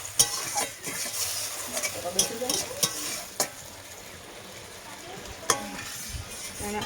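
Meat being stir-fried in a spice-paste water for an Indian potato and meat curry, with steady sizzling broken by sharp, repeated scrapes and clinks of a spoon against the pan, close and fairly loud.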